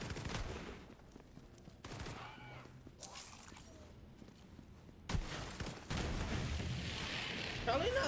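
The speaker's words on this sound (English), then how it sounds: "This shotgun is really good." Shotgun blasts in the video game Borderlands 3 crack out in sharp, loud bursts, separated by quieter gaps of in-game action, with the last few seconds turning dense and noisy.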